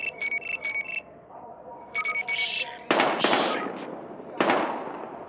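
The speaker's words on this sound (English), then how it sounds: "We've got gunshots, we're engaging." Gunfire in the video game Battlefield Hardline comes as sharp, loud bursts, two heavy cracks spaced a couple of seconds apart, over steady electronic beeping tones from the game.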